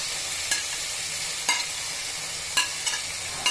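Broad bean seeds frying in a pan after fish for a rohu fish and bean curry, a steady moderate sizzle with occasional sharp stirring scrapes, no talk.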